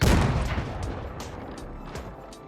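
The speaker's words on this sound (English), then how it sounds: "Alright, got the cannon." A cannon fires at a school bus in the driving game BeamNG.Drive, a loud close boom that decays into a rumbling tail with a few crackling impacts.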